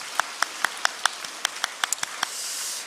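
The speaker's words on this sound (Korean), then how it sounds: "우리 하나님 앞에 영광의 박수 올려드리겠습니다" A church congregation clapping at a Sunday worship service: a quick run of sharp, evenly spaced claps that ends in a brief burst of broader applause noise, with no voices.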